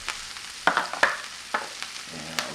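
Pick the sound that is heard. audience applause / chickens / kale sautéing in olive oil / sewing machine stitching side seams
kale sautéing in olive oil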